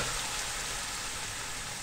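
Gravy hitting hot ghee in a wide pan for mutton biryani, a dense, steady sizzle and spatter, close and loud throughout the short stretch.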